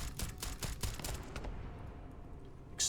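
Rapid bursts of gunfire and explosions in the video game Starfield, dense and loud at first, thinning into a rumbling tail with a final sharp burst.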